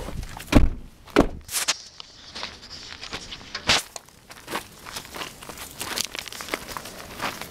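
Footsteps approach and enter through a door, with scuffing and crunching steps, a heavy thunk partway through, and irregular shuffling close by without talk.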